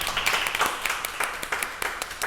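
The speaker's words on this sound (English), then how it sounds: "Another round of applause for this amazing study this morning." An audience applauds at the close of a morning study session of a political party, a steady wash of many hands clapping together at moderate loudness, with no talking over it.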